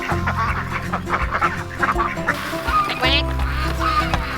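Pekin ducks quack repeatedly and raspily close by, a busy overlapping chorus with a low hum in the background.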